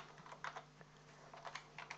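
Soft, quick keystrokes patter on a computer keyboard while entering fields into a Microsoft Access database table, faint and close, in irregular bursts with no talk.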